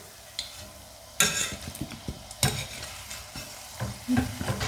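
Steady sizzling and bubbling of thenkuzhal dough deep frying in hot oil, with occasional clinks and stirring knocks close by.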